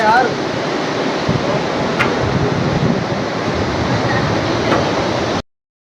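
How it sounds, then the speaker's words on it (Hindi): Mandakini river in Kedarnath rushing loudly as a steady, roaring broadband wash that drowns out the surroundings, constant and close, stopping abruptly near the end. "वहाँ से मंदाकिनी नदी बह रही है इतना सुंदर और इतनी तेज आवाज हो रही है नदी से"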